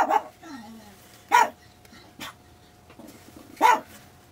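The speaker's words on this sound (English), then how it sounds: "Max has found somebody to bark at." A dog named Max barks from indoors at someone passing on the sidewalk, three sharp, loud barks spaced a second or two apart, with softer whines and yips between them.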